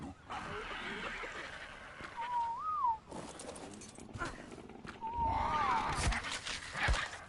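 In Ark Survival Ascended, a player's whistle command sounds twice as a short rising-falling tone, once near the middle and once near the end, set against steady game ambience and background noise.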